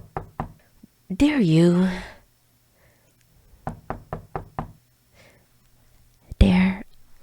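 A firm knocking on a front door comes in quick clusters of sharp raps, near and distinct, between quiet breathy whispered speech and a drawn-out vocal sound.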